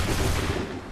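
A volley of musket fire in Assassin's Creed III rolls out as one dense, sustained roar of overlapping shots, loud and close, with no gaps within the second.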